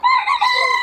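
A rooster at an open-air poultry market in Bocaue gives a short, close, loud crow, a single bright call of under a second with nothing else audible.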